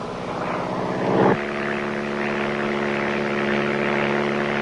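Small propeller planes fly over rainforest, a steady droning engine hum heard from inside or close by, continuous and loud with no talk.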